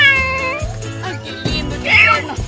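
A man imitates a cat with his voice, giving several drawn-out, wavering meows in quick succession, loud and close, with a higher yowling note near the end.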